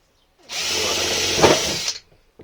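An electric drill whirs steadily for about one and a half seconds, close and loud, with a brief strain in the middle before it winds down, drilling while fitting a water gauge to a caravan.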